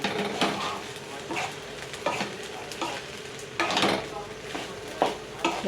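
A spoon stirs sabudana khichdi with peanut powder in a pan, making repeated scraping, clinking strokes in an uneven rhythm over a low sizzle, close and moderately loud.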